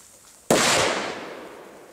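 A Dum Bum middle firecracker goes off outdoors in one sharp, loud blast, followed by a decaying rumble and rustle that fades over about a second and a half.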